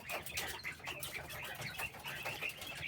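A backyard flock of about twenty hens and roosters clucks and murmurs close by, overlapping short calls in a busy, continuous chatter for about three seconds.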